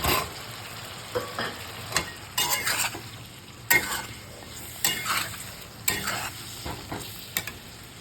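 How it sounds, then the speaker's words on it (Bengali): Half-boiled pointed gourd tossed into spice masala frying in a pan, with a low steady sizzle and repeated scraping stirs at an uneven rhythm, close and moderately loud, with no voices. "কষানোর পর এই হাফ বয়েল করা পটলগুলো এর মধ্যে দিয়ে দিচ্ছি"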